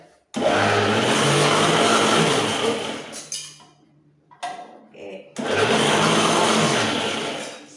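A blender runs loud and close while making juice, buzzing steadily, then cutting out for about a second near the middle before starting up again at full power.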